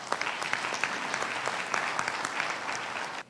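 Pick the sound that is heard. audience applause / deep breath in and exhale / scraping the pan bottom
audience applause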